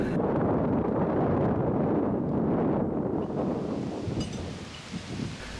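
Strong, sharp wind buffets the microphone in an Irish park in May, a loud continuous roar with gusty rumble that eases slightly toward the end.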